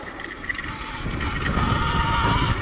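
Sur-Ron electric motorbike ridden at moderate speed, a steady whirring electric drive with a faint high whine over broadband wind rush and rolling tire noise, close and continuous throughout.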